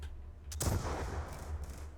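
Call of Duty 3 battle sounds, a sudden muffled explosion or burst of gunfire followed by a rumbling low tail, fairly quiet and brief.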